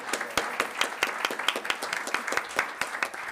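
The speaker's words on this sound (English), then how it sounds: "I think that deserves a round of applause for our CAO." Applause at a town council meeting honoring the chief administrative officer, a room of people clapping steadily with dense, sharp hand claps throughout, fairly close and with no talking over it.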